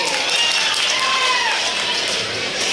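A dense, steady wash of crowd applause with shrill whistles streaking through it, loud and sustained from an audience at an outdoor Raas Mahotsav festival stage in Pathsala, Assam.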